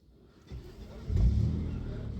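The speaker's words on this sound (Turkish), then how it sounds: "Ve aracımız çalıştı." A 1998 Opel Omega engine cranks and fires by push-button start, a short starter whirr followed by the engine catching and settling into a low, close idle rumble.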